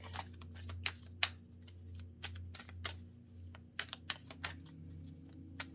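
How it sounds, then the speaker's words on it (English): Cards shuffled and one drawn from a deck: a run of quick, crisp flicks and riffles, close and fairly soft, over a low background hum. "Let's draw another one from this deck"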